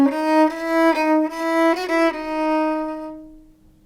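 A short, simple, calm Bach fugue subject rings out as a single melodic line of sustained notes, steady in rhythm and clear, played alone with no talk, fading away at the end.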